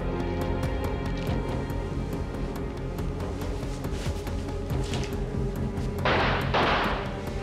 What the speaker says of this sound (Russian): Вы думаете, это выстрел?